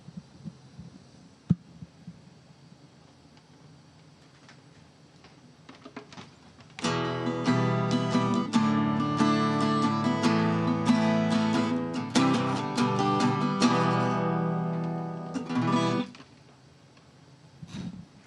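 An acoustic guitar is strummed aboard the International Space Station: quiet room hum first, then about nine seconds of clear, bright chords played near the mic before stopping abruptly.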